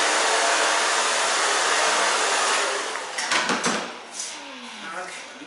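Hair dryer blowing steadily on freshly cut long hair, a loud continuous airy roar that eases off near the end as a person speaks over it.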